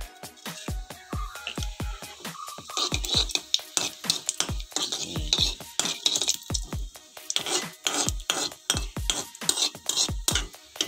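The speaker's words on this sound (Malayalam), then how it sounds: "ജീരകം ചേർത്ത് കൊടുക്കാം" Half a teaspoon of cumin seeds in hot ghee in a pan, with sizzling under a rhythmic run of loud, close metallic taps and scrapes from a utensil against the pan, and no talking.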